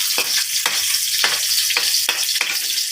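A small onion sautés in a pan with a bright continuous sizzle, punctuated by regular stirring scrapes roughly every half second, close and loud.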